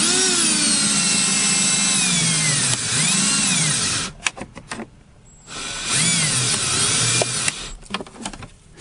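Power drill whirring during a windshield replacement on a 2014 Chevrolet Silverado, long steady runs with pitch dips as it loads up, a pause with clicks and shuffles, then another sustained run close by.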